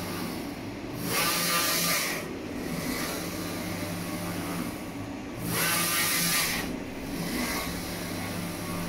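A Focus Atlas 1311 UV flatbed printer prints white varnish in one pass. A steady motor whir runs throughout, and a louder hissing surge rises each time the carriage sweeps across, about twice in the span.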